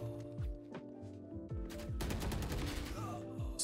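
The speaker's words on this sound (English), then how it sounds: "The bullets are going in the same spot, you see?" Rapid gunfire bursts from the video game Valorant, loud, with dense overlapping shots and some single taps in between. The shots are close and constant, and nobody talks.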